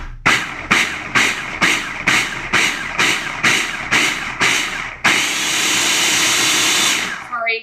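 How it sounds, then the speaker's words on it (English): A blender mixes pumpkin pie filling in a series of about ten loud, rapid pulses, then runs for a couple of seconds in one continuous high whirring roar before stopping. "Now, we blend. So this might be loud."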